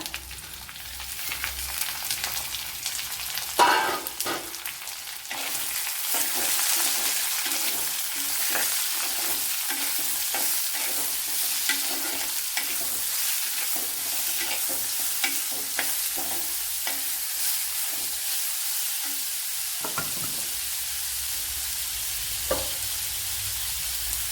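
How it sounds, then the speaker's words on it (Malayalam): Finely sliced large onion added to hot oil in a pan while cooking Kerala tapioca masala, bursting into a loud sizzle that holds steady with stirring scrapes throughout, no voices. "ഒരു വലിയൊരു സവാള വളരെ നൈസായിട്ട് അരിഞ്ഞെടുത്തിട്ടുണ്ട് അത് ഇട്ടുകൊടുക്കാം"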